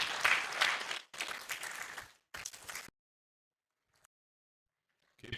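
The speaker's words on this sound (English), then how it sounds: "Please keep clapping, keep clapping." An audience applauds at a university matriculation ceremony, loud bursts of clapping in three stretches before a sudden silence, with a faint return at the end.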